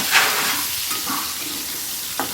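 Pointed gourds frying in oil in a pan, a continuous close sizzle with light scraping and a couple of soft clinks, no talking.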